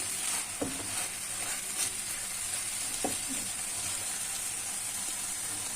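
Wild greens with a spoonful of chili paste cook uncovered in a pan, giving a steady, moderate sizzle and hiss with a couple of soft scraping stirs, heard up close with no voices.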